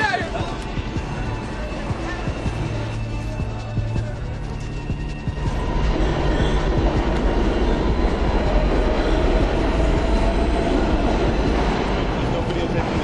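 Subway train rumbling with a steady, loud clatter of wheels and carriage noise that swells partway through, with people talking over it.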